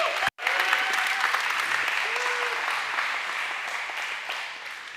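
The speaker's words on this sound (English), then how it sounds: "Can we give them a big round of applause?" A church congregation applauds two couples being welcomed, a steady, dense wash of clapping from a large crowd that fills the whole stretch after a brief silent gap at the start.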